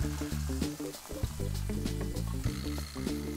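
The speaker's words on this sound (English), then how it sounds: "So now we're gonna cook the onions" Onions frying in a pan, a steady close sizzle under a rhythmic thumping beat of background music, with no talk.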